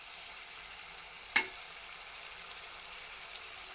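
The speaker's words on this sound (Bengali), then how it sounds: "আমার মশলাটা কষানো হয়ে গেছে, তেল উপরে উঠে আসছে" Spiced masala paste frying in oil for a bottle gourd and shrimp curry, a soft continuous sizzle close by, broken once by a single sharp clink of a utensil against the pan.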